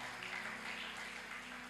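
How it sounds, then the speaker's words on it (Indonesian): A congregation applauds during a Thursday church service, a soft, continuous wash of clapping heard from a distance over a low electrical hum. "Tepuk tangan dong paling meriah buat Tuhan."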